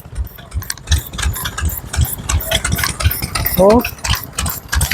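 Old engines run at an agricultural show on the Isle of Man, with a rhythmic chugging idle and rattling pulses close by, while people talk over it.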